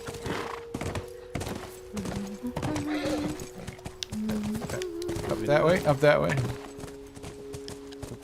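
In-game horse sounds from The Last of Us: hooves clip-clop in uneven steps and a horse whinnies midway, under a voice speaking at the start.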